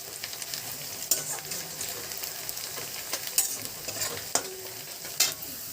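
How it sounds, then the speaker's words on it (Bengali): Onions sizzle in a pan with a little turmeric, a steady frying hiss near the microphone, while a spatula scrapes and clinks against the pan at irregular moments. "পেঁয়াজটা লাল করে ভাজা হবে, ভাজা হওয়া পর্যন্ত আমরা একটু অপেক্ষা করব।"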